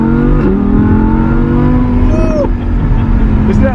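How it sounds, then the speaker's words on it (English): A car engine revs hard and blips through crisp downshifts up close during a drive to a car show in Pennsylvania, a continuous loud rumble with rising and falling pitch sweeps. "some crispy downshifts, Bill."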